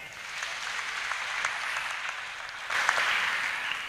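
Congregation applauding at a thanksgiving service in an Anglican church, steady broadband clapping throughout that swells louder near the end, with no one speaking over it.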